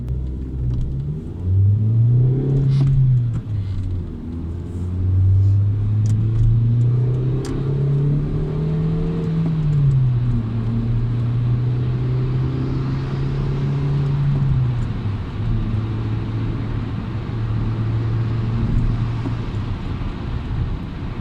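A Toyota Yaris with a 1.0 VVT-i engine accelerates on the road. The engine note climbs and dips through the gears, then settles into a long, steady rising drone of engine and road rumble heard from inside the car.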